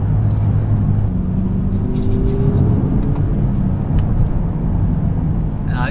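BMW M6 Gran Coupe engine under light throttle, a steady loud low rumble with a gentle rising rev partway through, close and continuous inside the car for the whole stretch.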